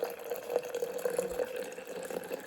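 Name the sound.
hot water poured into a Bialetti French press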